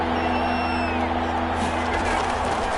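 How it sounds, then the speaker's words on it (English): Steady roar of a stadium crowd in a PS4 football video game, a continuous dense wash of cheering and murmur with faint whistles, no lulls. "this crowd's going to get even louder"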